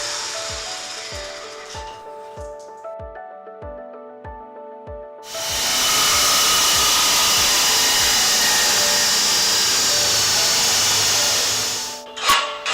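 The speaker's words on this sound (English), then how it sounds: "The pipe is severed at the 2 points marked." A pipe is severed at two marked points, first with a run of rhythmic sawing strokes, then with a loud, steady whining hiss from a power cutter that runs for several seconds and then stops. No one speaks.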